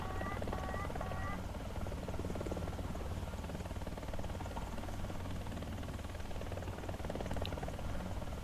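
Mi-28 attack helicopter in War Thunder, a steady loud rotor and engine drone filling the whole stretch without a break, with a few faint game chirps and a brief tone on top.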